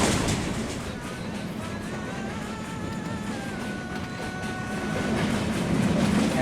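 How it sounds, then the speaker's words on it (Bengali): The Kapotaksha Express, hauled by locomotive 6602, rounds a large curve near Hardinge Bridge: a loud, continuous rolling rumble with thin wheel-squeal tones drifting across the middle. "আমাদের ট্রেনটি এখন বিশাল একটি কার্ভ অতিক্রম করছে।"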